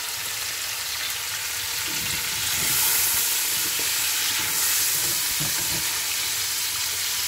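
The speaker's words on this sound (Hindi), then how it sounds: "ये देखिए हमने कीमा भून रहे हैं हम" Minced meat (keema) fries over low heat in a pan, giving a steady close sizzle and crackle with occasional stirring scrapes and no talk.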